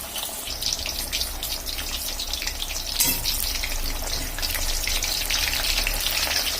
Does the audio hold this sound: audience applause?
no